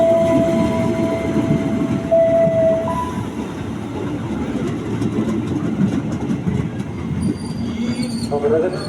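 A KRL commuter train rolls into Bogor station, its wheels rumbling and squealing along the rails with a brief horn-like tone, while platform sounds carry in the background.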